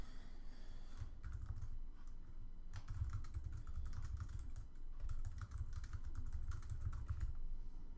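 Rapid typing on a computer keyboard, steady bursts of key clicks close up with short pauses between runs, no voices.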